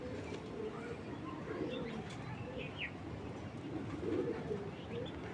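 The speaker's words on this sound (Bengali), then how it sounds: "এটা কিন্তু হান্ড্রেড পার্সেন্ট ব্রিডিংয়ের কবুতর থরের কবুতর" Soft cooing from breeding pigeons rises and falls a few times over faint background noise, with an occasional brief chirp; the birds sound fairly close but quiet.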